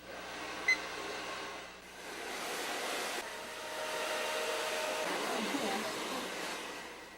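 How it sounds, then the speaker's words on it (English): A conventional hair dryer blows at naturally straight hair, a loud steady whirring hiss that dips briefly and then swells again, running continuously with no talking. "using the conventional dryer, one half of Kirsten's naturally straight, easy-to-style hair is dry"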